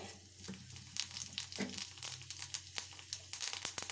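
Cumin seeds sizzle and crackle in hot oil at the start of a potato and chickpea sambar, a steady close-up frying hiss with many sharp pops and crackles throughout.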